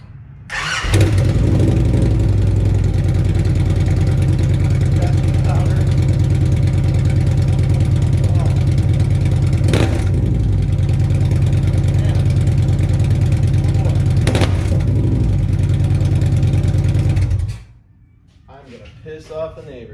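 A 2013 Victory Cross Country motorcycle with an unbaffled exhaust idles loud and close, rumbling steadily for about seventeen seconds with two sharp blips of revving, then cuts off abruptly.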